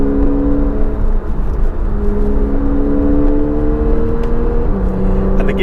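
Porsche 911 Targa 4S (991) in Sport Plus mode, a loud steady engine drone heard from inside the cabin, its pitch rising smoothly as the car accelerates, with a gear change near the end.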